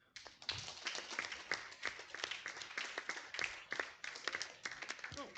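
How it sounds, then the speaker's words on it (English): Audience clapping for an award recipient at a gathering, steady dense applause with scattered sharp claps and some cheering voices mixed in, moderately distant. "More applause."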